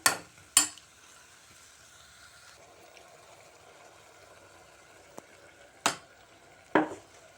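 Mushroom gravy with turmeric and salt stirred in a pan: a few sharp clanks of a utensil striking the pan stand out over a faint, low sizzle.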